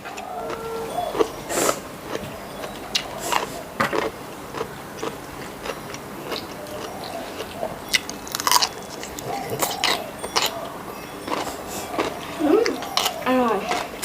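Crunchy food being bitten and chewed close to the mic during a Thai mukbang of braised pork leg and boiled eggs, with repeated crisp crunch bursts and mouth sounds, and someone talking briefly between bites.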